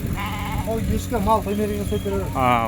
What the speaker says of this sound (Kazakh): Осындай қой ешкі